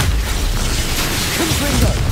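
Expulso spell blasting in Hogwarts Legacy combat, a loud continuous boom and rumbling burst with crackling debris filling the whole moment, a voice briefly audible underneath.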